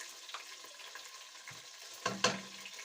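A spoonful of garlic drops into hot oil in a pan and crackles, with a soft sizzle throughout and louder bursts near the end.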